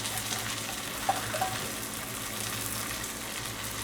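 Brussels sprouts frying with potatoes and black seeds in an iron wok, a steady broadband sizzle throughout with a couple of small stirring clicks, close and alone.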